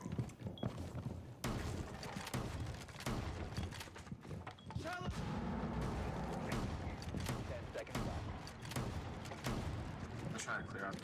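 Gunfire from Rainbow Six Siege pops in scattered shots amid a busy mix of game sounds, with people talking over much of it.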